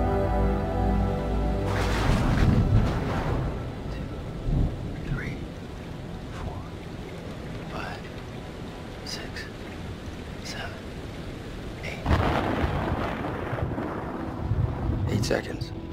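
Rolling thunder and steady rain from a storm in the horror game Man of Medan, with low rumbling bursts near the start and again later, under a continuous wash of rainfall and occasional faint voices.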